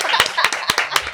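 Close hand clapping from a studio audience on a podcast set, a few sharp separate claps in quick succession, loud and dry.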